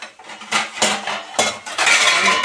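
A lid goes onto a cooking pot during preparation of mudi ghanto, with a few loud metallic clanks and scrapes of pot and cover, close and without speech.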